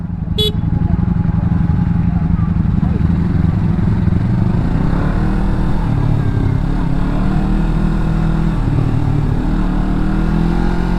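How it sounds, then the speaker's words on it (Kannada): A motorcycle engine rumbles loudly nearby for several seconds as it moves past at Dhanushkodi, with a short horn beep right at the start. "ಬೈಕ್ ಹೋಗತ್ ಬಾ"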